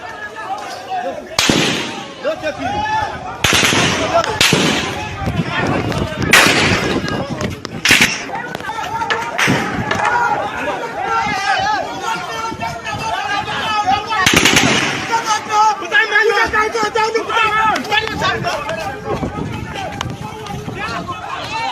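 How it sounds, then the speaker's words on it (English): Gunfire during an armed attack on people, with repeated sharp bursts and single shots cracking loudly and close, some in rapid machine-gun-like strings, over a dense, noisy background with shouting voices throughout. "As you can see, they are shooting our people."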